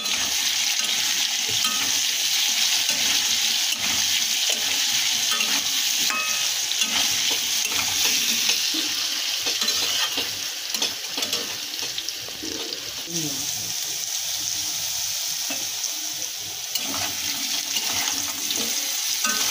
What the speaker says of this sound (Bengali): আমাদের এক পিঠ ভাজা হয়ে গেছে আলু, আর সামান্য করে ভেজে নেব